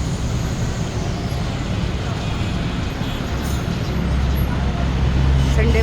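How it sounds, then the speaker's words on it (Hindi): Dense roadway rumble from a jammed street in Karachi, with buses, cars and trucks idling and creeping close by; a steady low drone grows slightly louder toward the end. "ट्रैफिक बहुत जाम है।"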